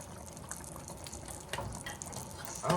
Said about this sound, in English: add enough water to make this stuff soupy